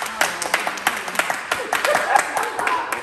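A small crowd at a summer gathering claps in a loose, uneven round of applause, individual hand claps distinct and close, with some voices and cheering mixed in.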